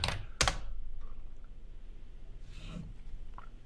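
Two quick clicks on a computer keyboard while entering a Python manage.py migrate command in PowerShell, followed by faint scattered key taps over low room hum.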